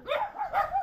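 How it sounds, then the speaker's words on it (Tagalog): A dog named Brownie gives two quick close yelping barks, each with a slightly whiny, rising-and-falling tone, heard with no one talking. "Oy, Brownie, ang ingay niya ng aso."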